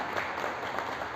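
Brief burst of steady audience clapping at a press event in Karnal, continuous and even, moderately distant and fairly quiet with no voices on top.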